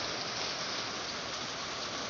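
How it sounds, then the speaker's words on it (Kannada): Heavy rain pouring down in a steady, dense hiss, loud and continuous with no breaks or voices. "ಮಳೆ ಜೋರಾಗಿರ್ತೈತಿ"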